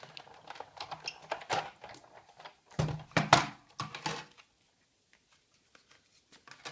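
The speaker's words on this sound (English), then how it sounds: "I'm going to put the top standard cutting pad on and run it through the Big Shot" A Big Shot die-cutting machine cranks Whisper White cardstock in a heart-pattern embossing folder between cutting pads, giving close, irregular plastic clicks and ratcheting thunks with a louder burst in the middle, then near silence with a few faint ticks.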